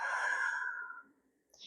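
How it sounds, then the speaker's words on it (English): A slow, deep breath drawn in through the nose during diaphragmatic breathing exercise, a steady airy rush that swells then fades after about a second, followed by a faint brief exhale. "We're going to do that nice breath in with the nose"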